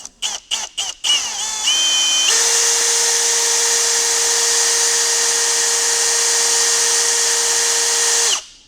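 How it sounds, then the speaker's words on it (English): A few quick trigger bursts from a power drill lead into a sustained high whine as it pulls a knockout punch cutter through sheet metal, steady and loud for several seconds before spinning down. "we're pulling that cutter into the cup"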